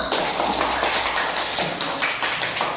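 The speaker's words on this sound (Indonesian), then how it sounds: "Tepuk tangan untuk kita semua." A class of children clap their hands together in a classroom, a dense, steady patter of many small claps lasting a few seconds, close and fairly loud with no talking over it.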